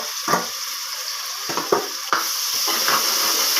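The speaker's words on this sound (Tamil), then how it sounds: "இந்த சின்ன வெங்காயத்தையும் நல்லா வதக்கி வச்சுக்கணும்" Small shallots sizzling in hot oil in a pan for a curry, with a steady close frying hiss and a few brief stirring scrapes, no voices.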